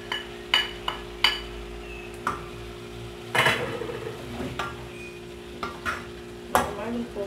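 Meat for yakisoba sizzles softly in a pan while a utensil scrapes and stirs, with sharp clinks and taps against the pan recurring every second or so, close by.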